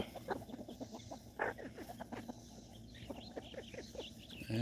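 Americana hens cluck softly in a homestead coop at evening, a run of quiet, irregular clucks and short calls at moderate distance, with no talking.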